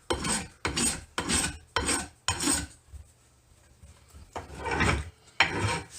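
A file rasps along the rough fiberglass edge of a C4 Corvette part in five quick, even strokes, close and loud, then pauses before two more strokes.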